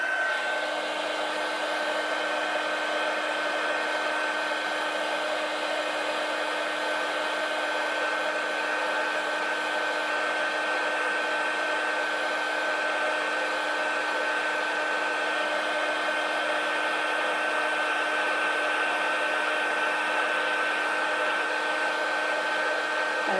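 A heat tool blows hot air over layered faux metal craft embossing on a card, a steady loud whirring hiss with a constant hum that runs unbroken for the whole span with no talking.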